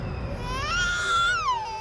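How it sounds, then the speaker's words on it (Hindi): An infant's wail in a jungle setting: a single sustained cry that rises, holds and falls away over a low rumbling background, loud and close, with no talking. "बच्चे की रोने की आवाज?"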